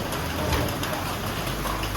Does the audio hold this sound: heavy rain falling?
yes